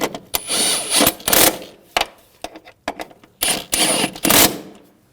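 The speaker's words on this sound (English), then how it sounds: "Now tighten these bolts." Bolts on the rear shock absorbers of a 2006-2009 Audi S4 are tightened with a tool, making several loud, close bursts of rapid ratcheting clicks separated by short pauses.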